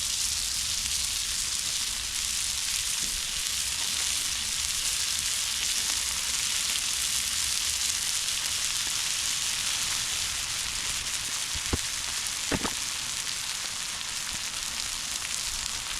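Kielbasa sausages sizzle on a Blackstone griddle with a steady, close hiss of frying, broken near the end by a couple of faint clicks or taps.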